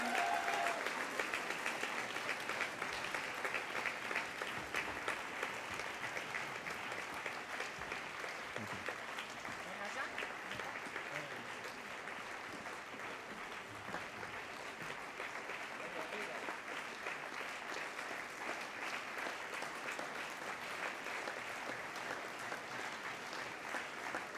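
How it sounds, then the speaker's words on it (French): An audience applauds the visiting guests in a long, steady wave of clapping that carries on without pause, fairly even in loudness and slightly distant. "J'aimerais bien que vous puissiez les applaudir encore pour leur dire merci d'être venus jusqu'ici"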